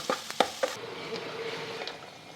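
Chicken pieces frying in a pan for a cumin chicken dish are stirred, a few sharp scraping knocks in the first second followed by a steady, low sizzle that continues alone without talk.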